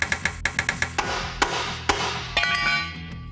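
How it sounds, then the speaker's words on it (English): Sharp metallic hammer strikes ring out in a quick, regular series, then slow to a few heavier, spaced blows on a punch, knocking rivets out of body mount brackets on a 1953 Willys Wagon. "with a punch and hammer, we'll knock each one out."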